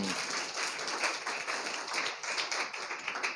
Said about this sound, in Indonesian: Tepuk tangan buat kemuliaan nama Tuhan.